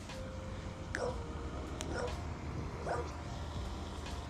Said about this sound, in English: I don't mind those dogs having a bark at me